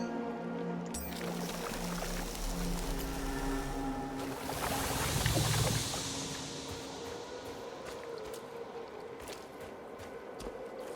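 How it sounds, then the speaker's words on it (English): A waterfall in the video game Scars Above gives a steady, broad rushing roar of falling water that swells briefly midway, continuous and fairly loud, with no talk. "There's a waterfall over there."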